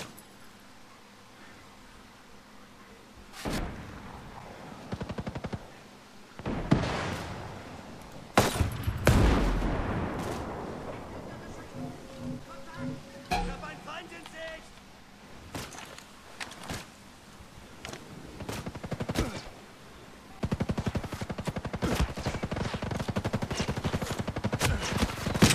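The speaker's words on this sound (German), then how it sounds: "Irgendeine Waffe ist sehr laut." Loud bursts of weapon fire in the tactical shooter Ghost Recon Breakpoint, with sharp single shots and rapid clusters scattered across the stretch over a steady background, growing denser toward the end.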